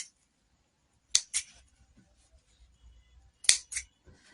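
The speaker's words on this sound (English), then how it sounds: "what we are going to do is to cut the thread" Scissors snip thread in two quick pairs of crisp, close cuts separated by a short pause, with faint handling noise between them in an otherwise quiet room.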